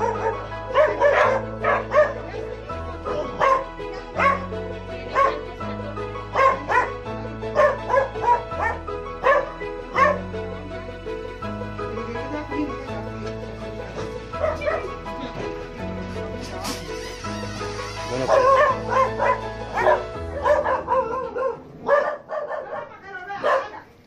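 Repeated dog barks and yips in bursts over a steady musical background, some whimpering mixed in, moderately loud throughout.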